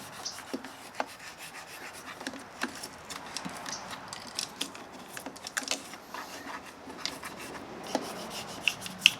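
Hand scrubbing on the chassis of a Hallicrafters S-108 radio, a close, continuous rough rubbing with irregular scratchy strokes and small clicks, no talk.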